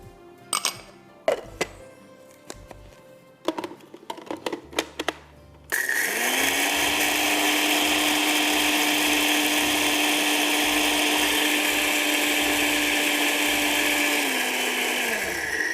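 Small electric grinder pulverizing whole cumin, white sesame, poppy seeds, fennel and coriander seeds: a few knocks and rattles of handling first, then a loud, steady motor whir that runs continuously for about ten seconds and winds down slightly at the end.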